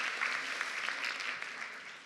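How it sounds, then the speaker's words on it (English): Audience applause at a conference after a talk, a steady wash of many hands clapping at moderate level for about two seconds, tapering off toward the end. "So we're going to give Kerry a round of applause for being up here with us today"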